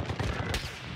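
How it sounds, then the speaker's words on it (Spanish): Gunfire in a shooter video game, a rapid cluster of close shots cracking over about a second with a sharp report near the middle, layered over background game noise. "O están disparando"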